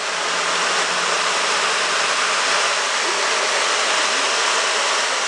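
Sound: waterfall

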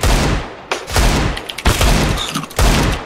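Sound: gunfire in the video game CS:GO

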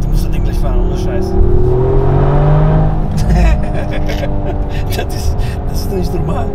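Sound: Toyota GR Yaris engine revving with Prior Design exhaust

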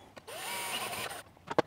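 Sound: power drill drilling hole for caravan light wires

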